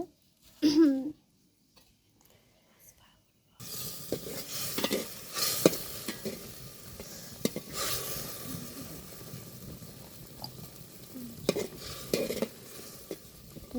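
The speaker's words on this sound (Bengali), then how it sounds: "এই যে এখন মাছ দেওয়া হয়েছে" Fish cooks in a pan with garlic paste, a moderate frying sizzle broken by repeated scraping stirs and clinks of utensil on metal after a brief quiet opening.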